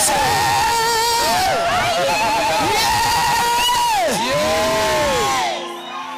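A church congregation at an Easter service in Kitengela cheers and shouts together in a dense, continuous wall of voices with shrill, wavering cries and ululations rising over it. The crowd fades slightly near the end.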